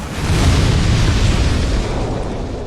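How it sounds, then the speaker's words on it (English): An explosion in Dark Souls 2 booms out as a loud, sustained low rumble that holds for a couple of seconds before easing slightly, with no speech over it. "everyone heard that that explosion went off, right?"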